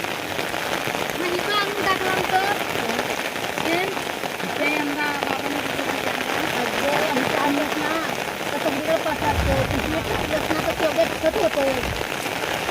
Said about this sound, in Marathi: पाऊस आला परत